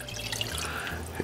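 Water poured into a soup pot of red lentils and broth, a brief close trickling splash with a couple of light drips, quiet and alone.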